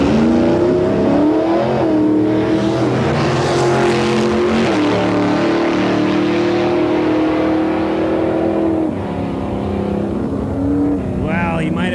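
Drag racing truck engine accelerating hard down the strip, a loud, close roar rising steadily in pitch for several seconds before easing off, with a faint higher whine near the end.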